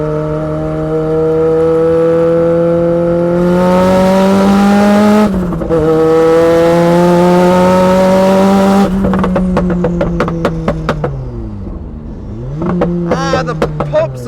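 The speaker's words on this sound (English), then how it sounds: "The pops and the flames, oh my god, this thing's terrifying, and the exhaust is right by you." A 300BHP MX5 drift car revs hard up close, its engine note climbing and dropping in sustained pulls, then a rapid string of sharp exhaust pops and crackles as the throttle lifts, followed by another rising rev.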